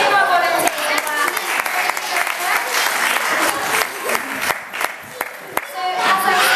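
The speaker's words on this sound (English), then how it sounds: "Give our volunteers a clap." An audience at a parrot show at Longleat claps steadily for the volunteers, a dense burst of applause with a few sharper individual claps standing out near the end.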